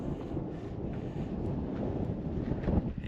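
Wind gusts across the open, treeless Nullarbor Plain at its eastern end, a steady low roar buffeting the microphone for the full three seconds with no talk.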